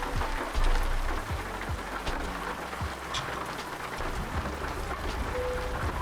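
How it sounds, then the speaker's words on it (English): Steady rain from the video game American Truck Simulator patters on a surface in a constant close hiss, with occasional soft low knocks beneath. "some good rain noises."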